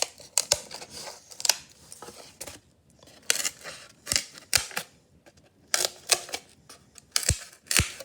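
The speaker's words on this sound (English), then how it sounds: "I'm going to cut out my polystyrene roughly around" Scissors snip through a polystyrene printing tile in short bursts of sharp crisp cuts, close and clear, separated by brief quiet pauses.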